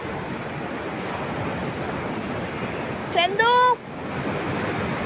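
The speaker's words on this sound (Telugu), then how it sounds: "lovely morning at RK beach Visakhapatnam Andhra Pradesh" Morning surf at RK Beach in Visakhapatnam, Andhra Pradesh, makes a steady, close roar of waves mixed with wind noise. A brief voice cuts in partway through.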